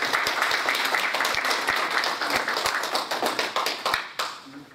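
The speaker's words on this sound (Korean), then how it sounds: "예, 박수 부탁드립니다." Audience applause in a lecture hall, a dense burst of clapping with a few distinct louder claps near the front, thinning and fading out toward the end before a voice begins.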